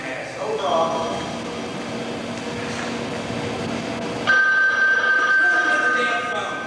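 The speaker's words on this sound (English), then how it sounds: "The damn phone." A telephone bell rings indoors, a sustained electric trill that grows louder and clearer toward the end, with people talking under it.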